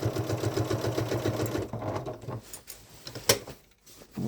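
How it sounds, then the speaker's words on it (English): Janome Inspire sewing machine back stitching a crossbody bag strap through fabric: a close, rapid, even needle chatter for about a second and a half, then quieter handling clicks and small knocks. "now we're going to do the other one, and we're going to back stitch."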